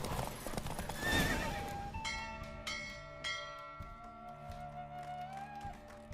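Horse hooves clip-clopping at a steady run with a loud whinny near the start, from a horseback race in The Witcher 3: Wild Hunt, with bell-like tones and music ringing beneath.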